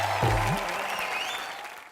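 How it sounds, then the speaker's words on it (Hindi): A studio audience on a televised entertainment show applauds three superstar guests. Dense clapping sounds alongside a brief low tonal swoop at the start, then tapers off. "एक बार हमारे तीनों सुपरस्टार के लिए जोरदार तालियां हो जाए"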